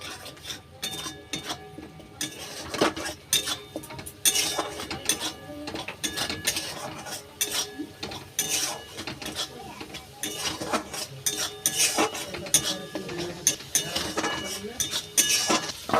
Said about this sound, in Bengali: এবার অল্প একটু কাশ্মীরি রেড চিলি পাউডার দিয়ে দেব। এইবার ভালো করে কষিয়ে নেব।